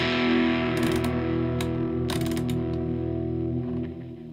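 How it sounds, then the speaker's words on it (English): Echorec-style analog echo unit with its tape motor speed changed on the fly, giving sustained repeating tones that waver and warble slightly in pitch, with cascading repeats and occasional bright bursts, alone and fairly loud. "Not as much as some analog units, but you do get a little bit of tape warble there."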